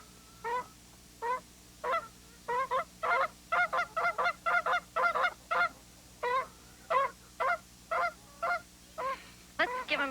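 Wild geese honk repeatedly in a fairly close flock, a steady run of short, strident calls spaced irregularly over a quiet background.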